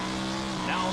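Heavy 1,500 kg V8 A-grade stock cars racing at a championship meeting, a steady loud engine roar throughout with a slight rise near the end, mixed with crowd and commentary noise.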